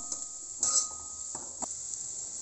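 Pulao ingredients with onions stirred in a pan, giving a steady faint sizzle under a high hiss with a few soft scraping and clinking strokes, close by and quiet.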